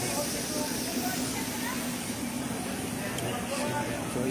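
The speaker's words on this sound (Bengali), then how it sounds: "অযোধ্যা ট্রেন যাচ্ছে" A train passing along a rail line beside a dharamshala in Ayodhya, heard as a steady, broad rushing roar with a hissy edge that holds constant throughout.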